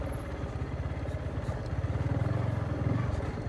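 A motorcycle rides over a rough rural road between Chhapthok and Chhare, its engine throbbing in quick, rhythmic pulses close by and steadily loud.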